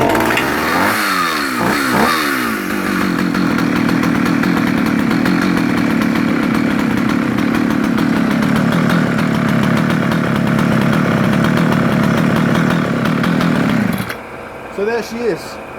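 A vintage Partner R16 55cc Swedish chainsaw runs loudly and close at a steady high idle for about fourteen seconds after a rough start, then cuts out, leaving quieter background noise.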